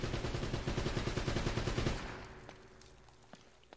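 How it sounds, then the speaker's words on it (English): Gunfire from a pistol and an assault rifle in the video game Uncharted, a dense, loud burst of rapid shots for about two seconds that cuts off and leaves a few faint scattered pops. "Pistol versus assault rifle."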